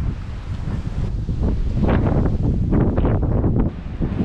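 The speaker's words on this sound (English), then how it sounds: "Winter storm, Dennis. It is windy." Strong winter storm wind buffets the microphone at a seaside spot, a loud continuous roar with surging gusts and no talking.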